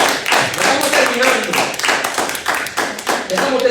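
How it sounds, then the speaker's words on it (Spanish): Congregation applauding during a church service, a dense wash of many hands clapping steadily and loudly throughout, with voices mixed in beneath. "Brinden un fuerte aplauso al Señor"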